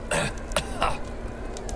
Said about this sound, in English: I am increasingly concerned about that cough